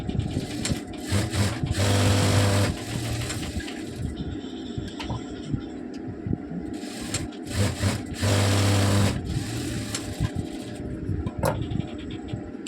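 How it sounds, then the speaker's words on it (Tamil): A sewing machine stitches a princess cut garment in two loud running bursts, with quieter handling of cloth and mechanical clicks between them. "இப்போ பாருங்கள் 3 தையல் போட்டு எடுத்தாச்சு."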